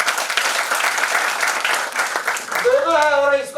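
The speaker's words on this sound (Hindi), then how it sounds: "वेरी गुड, इनके लिए भी ताली बजाओ" An audience at a business meeting claps together in dense, steady applause for a few seconds, fairly close and loud, before a voice speaks over the fading claps.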